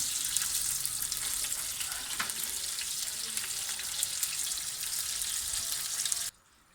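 Steady, close crackling sizzle of spices and slit green chillies frying in hot oil for a tadka for beef do pyaza, continuous for several seconds before stopping abruptly.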